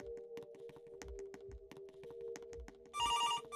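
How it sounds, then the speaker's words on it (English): A telephone rings in the Roblox game Us Are Toys, set in a creepy toy factory: repeated electronic ring tones with steady pulses, and a brighter, louder burst of ringing near the end. "Oh, the phone's ringing again."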